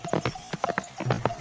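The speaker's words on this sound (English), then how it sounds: "the horse ran away" Horse hooves clip-clopping as the animal runs off from a farm stable, a quick irregular series of close, sharp hoofbeats with no talking.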